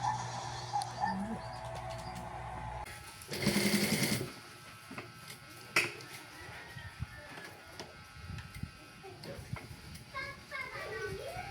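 A sewing machine stitches denim pants, a loud, fast rattling burst lasting about a second, set among quieter household sounds, birds and voices in the background.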